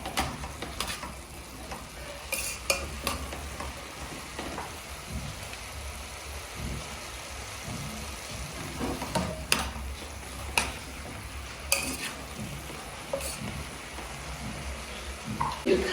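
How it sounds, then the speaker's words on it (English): Pork being stirred as it wet-fries in a pan, a soft continuous sizzle broken by scattered scraping taps of a utensil against the pan, fairly quiet and close. "Then you're going to stir. Stir in your food."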